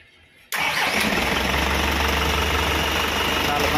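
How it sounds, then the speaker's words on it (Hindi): A generator engine catches abruptly after a short quiet moment, then settles into a loud, steady, rumbling run. "ये जी जनरेटर लगा रहा है"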